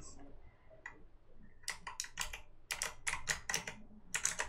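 Clicks from a computer mouse and keys during a PC horror game come in rapid, close, crisp bursts, clustered irregularly, with brief talk near the start.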